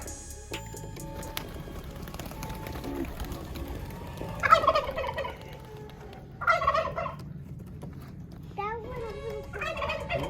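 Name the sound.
birds being let out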